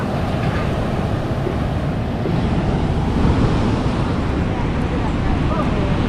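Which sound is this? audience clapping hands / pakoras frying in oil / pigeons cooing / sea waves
sea waves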